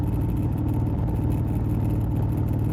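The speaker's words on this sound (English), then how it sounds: "The sound of the engine humming beneath us." A car engine hums steadily during a night drive, a dense, even low rumble with road noise filling the whole stretch at constant loudness, with no voices.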